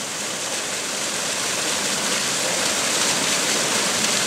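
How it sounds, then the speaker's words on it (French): A small waterfall on a modest stream in the Vosges, a continuous, loud, broadband rush of falling water with no voices. "Et voilà cette petite cascade."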